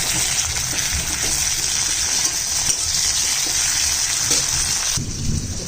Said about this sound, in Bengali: পেঁয়াজটা লাল করে ভাজবো পেঁয়াজটা লাল করে ভাজা হয়ে গেলে দিয়ে দিচ্ছি একটা টমেটো